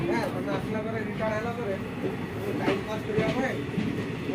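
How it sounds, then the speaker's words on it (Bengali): A passenger train rolling along shortly after leaving the station: a continuous rumbling, rattling run with clacking from the wheels and carriages. Voices murmur faintly beneath the noise. "আমাদের ট্রেন এখন ছেড়ে দিয়েছে"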